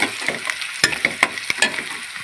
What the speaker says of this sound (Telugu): ఉల్లిపాయ ముక్కలు వేద్దాం మినపా ముక్కలు వేయించానండి